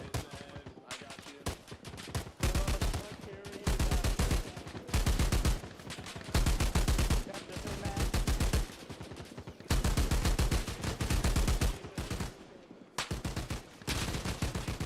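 Rapid bursts of machine gun fire in the Arma Reforger video game, a Vietnam-era MACV-SOG scenario, rattling loud and close in repeated strings of shots with brief gaps between volleys across the whole stretch.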